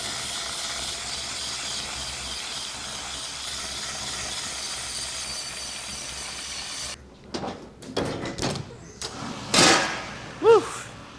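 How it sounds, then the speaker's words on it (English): A spray cabinet parts washer blasts a steady, loud hiss of spraying water while cleaning a Ford 289 engine block, then stops abruptly, leaving clanks, knocks and a brief spray burst. "then I'll start the spray cabinet again for a couple minutes"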